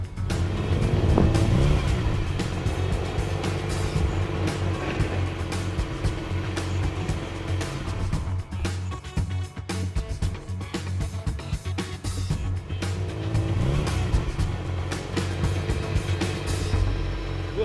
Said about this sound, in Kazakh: Анда бір көлік тұр ғой.